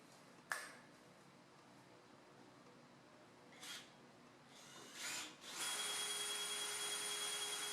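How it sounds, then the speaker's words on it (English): A power drill, lubricated with WD-40 as drilling fluid, works on a custom chassis for a pro-touring Z06 Corvette. A sharp ping comes first, then short bursts of drilling, then a sustained run of drilling at the end, quiet and without talking. "Alright, so I use WD for my drilling fluid."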